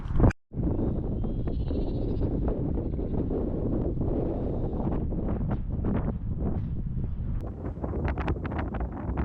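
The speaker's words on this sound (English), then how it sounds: "So these little sheepies in the field over here, certainly the white-faced ones, Penistone sheep they are." Penistone sheep with white faces bleat in a field, faint and somewhat distant, almost masked by steady, heavy wind noise across the microphone.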